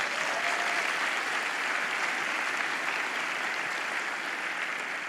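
Church congregation breaking into sustained applause, a dense, even wash of many hands clapping that holds steady throughout with no voices standing out.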